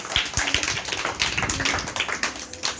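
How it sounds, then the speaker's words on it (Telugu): Group hand clapping indoors, a steady run of quick sharp claps filling the short stretch at close range, with no talk over it. "క్లాప్స్."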